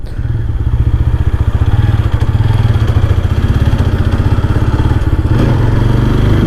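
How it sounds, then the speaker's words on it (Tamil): Close, loud exhaust note from a 2025 TVS Apache RTR 160 4V motorcycle being ridden, a steady throbbing thump that runs continuously throughout. "எக்ஸாஸ்ட் நோட் புர்ன்னு ஒரு மாதிரி அந்த குடு சவுண்டு நல்லா கேட்குது"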